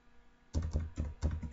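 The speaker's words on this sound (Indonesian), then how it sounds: "baru tekan E pada keyboard" Keys clack on a computer keyboard during design work in CorelDRAW, four distinct close taps spaced at a steady rhythm after a quiet start, with no talking.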